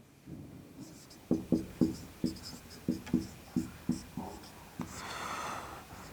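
Chalk or marker strokes on a classroom board during a Hindi lesson, about ten distinct rhythmic taps and scrapes up close, with a brief rustle at the end and no speech over them.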